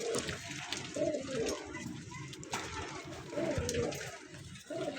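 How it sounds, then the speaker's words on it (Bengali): A pair of Allahabadi Kalchira pigeons, male and female, coo softly in low repeated murmurs close by, with faint background noise and some voices around them. "পায়রা দুটো দেখুন, খুব সুন্দর কোয়ালিটির পায়রা আছে"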